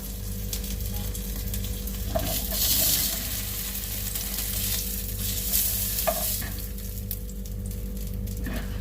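Tofu sizzles steadily in a hot fry pan on a stove element, a continuous frying hiss with a few scraping clinks from a utensil, close and fairly loud, with no talking.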